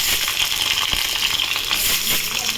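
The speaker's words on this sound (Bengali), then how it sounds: "এই আলুটা ভেজে নেব কড়াইতে দিয়ে" Diced potatoes frying in hot oil in a wok, a continuous close, bright sizzle with small crackles and pops throughout, no talking.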